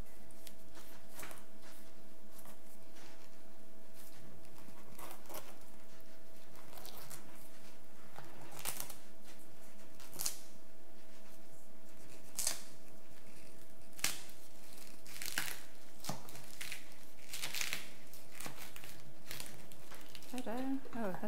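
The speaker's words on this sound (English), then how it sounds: "it's just cutting the pineapple" A sharp knife cuts a whole pineapple lengthwise, giving a series of crisp, close slicing and crunching strokes spaced out over a faint background, with people talking at times.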